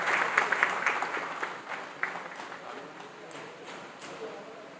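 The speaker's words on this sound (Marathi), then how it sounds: "सगळ्यांनी टाळ्या वाजवून त्यांचे स्वागत करा" A seminar audience at a gym claps to welcome a guest onto the stage, with dense applause that starts strong and slowly thins out over several seconds and a faint crowd murmur underneath.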